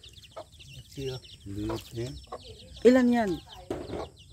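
A rooster clucks in a rural Filipino farmyard, several short uneven clucks and one louder strained call, mixed with people speaking nearby.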